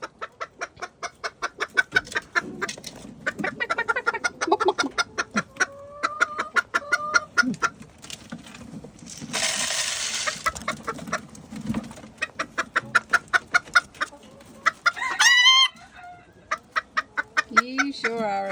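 Backyard chickens cluck and squawk in rapid, rhythmic bursts close by, with a brief rushing noise midway and sharper squawks toward the end, while a person talks softly to them.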